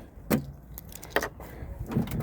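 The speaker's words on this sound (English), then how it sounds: "Let me grab my keys." Keys jangle and clink in a few short bursts while a 2002 Z71 truck is being unlocked, close and fairly quiet against a low background.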